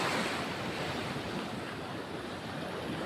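Steady roar of ocean surf washing onto the shore, broad and continuous, with wind rushing across the microphone.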